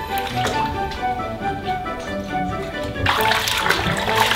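Tap water runs steadily into a tub for a Labrador puppy's bubble bath, the flow growing louder and splashier partway through, with a voice speaking faintly over it.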